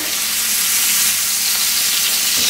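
Steak sizzling hard in a hot pan with butter, garlic cloves and rosemary, a loud, steady, close crackling hiss that fills the whole stretch with no pauses and no voices.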